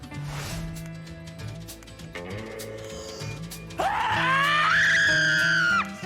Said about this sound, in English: Unsuccessful scream.